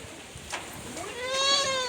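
A goat bleats once outdoors as rain sets in, a single wavering, nasal call rising out of soft background noise in the second half, moderately close.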